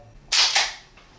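Dry-fire trigger pull and reset on an ACW Quantico 9mm 1911-style pistol, heard as one sharp, loud snap with a second click right after, close up, with no talk.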